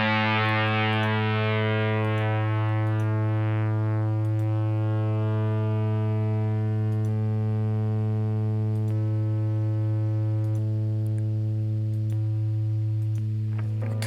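An asymmetrical guitar distortion effect programmed on a Sigma DSP ADAU1452 sustains a thick, buzzing chord that slowly decays, with faint rhythmic ticks and a fresh strum near the end.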